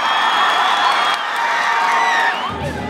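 A jam-packed basketball crowd in Belgrade roars and whoops continuously, a loud, sustained wall of cheering voices that eases slightly at the end.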